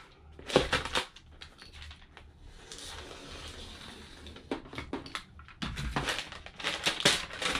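Thick DIY doormat material being cut to size, giving scattered crunchy, crinkling bursts of scraping and snipping, quiet and close with no voices.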